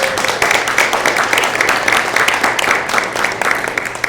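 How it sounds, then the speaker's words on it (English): Loud, close audience applause at an arts society annual meeting, a dense burst of many hands clapping for student camera operators, continuous for the few seconds. "yes, we can give them an applause."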